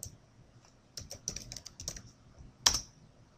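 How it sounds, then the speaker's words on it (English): Typing on a computer keyboard: a short burst of quick, light key clicks close by, ending with one louder keystroke, with no voice over it. "you select branches and simply type"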